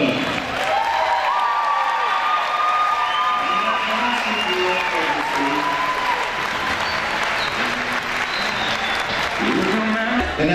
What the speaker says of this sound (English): let's give a big round of applause for the 2014 King and Queen, Brett Hurdle and Queen Alicia Abdullah